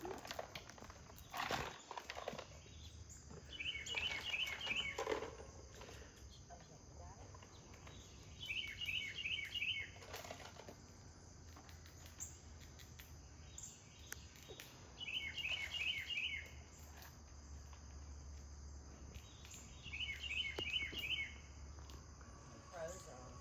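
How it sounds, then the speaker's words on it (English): Crows calling in alarm, likely mobbing a hawk or owl in a big tree, heard as four spaced bursts of harsh, rapid caws from a moderate distance over steady insect buzz and faint background noise. "You hear the crows?"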